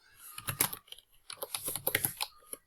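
Fingers tap out code on a computer keyboard in two quick bursts of crisp, close clicks separated by a brief pause, with no voice.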